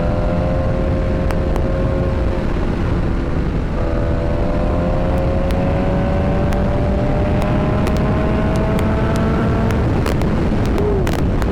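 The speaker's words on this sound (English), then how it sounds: "Good sound of bike, guys." Liter-class 1000cc motorcycle engine running loud and close, a steady drone with rising and falling pitch as it revs through gears, wind noise throughout.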